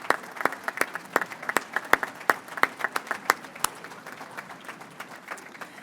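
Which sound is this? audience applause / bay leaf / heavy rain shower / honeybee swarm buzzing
audience applause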